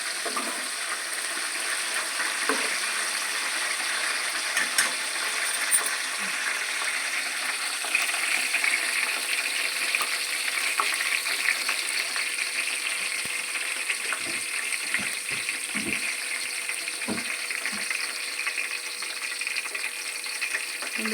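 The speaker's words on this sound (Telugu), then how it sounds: "ఉల్లిగడ్డలు అయితే వేగుతున్నాయి ఫ్రెండ్స్." Onions frying in a pan, a steady broadband sizzle and crackle that holds at an even level throughout, with no voices over it.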